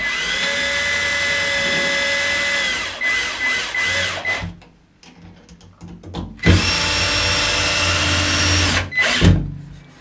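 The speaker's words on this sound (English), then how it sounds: "I like to use a screw gun." A screw gun drives screws into a shower valve mount, whirring steadily and loudly at close range for a few seconds, pausing with light handling clatter, then running again in a second burst.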